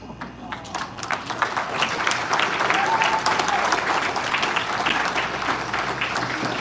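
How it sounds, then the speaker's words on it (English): A wedding audience applauds the newlyweds with sustained, full-room clapping that swells and holds, with some voices and cheers mixed in. "a big round of applause for Mr. and Mrs. Kulkarni"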